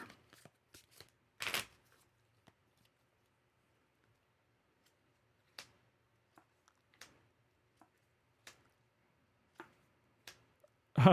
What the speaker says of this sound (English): So we shuffle our hand into the deck, and then we draw back 2 plus 2 more, so 4.